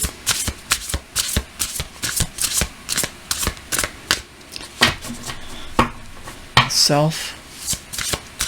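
Tarot cards being shuffled by hand, a steady run of crisp riffling slaps and flutters close up, with a brief spoken word near the end.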